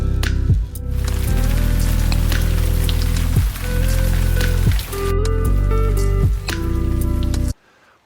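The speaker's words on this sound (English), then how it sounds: "Well, the rain arrived," Rain falls steadily at a campsite, a dense patter of drops hissing and ticking close by over a sustained, shifting tonal backing, then cutting off abruptly near the end.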